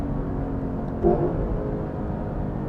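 A 2023 Lexus LC500's naturally aspirated engine rumbles steadily and swells briefly with a short blip around a downshift, a low, moderately loud drone heard alone.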